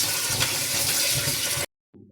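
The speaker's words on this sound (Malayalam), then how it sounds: "എന്നിട്ട് നമുക്ക് നന്നായി കഴുകിയെടുക്കാം" Tap water gushes steadily over pork pieces that have been doused with lemon juice, a loud close splashing flow that cuts off abruptly near the end.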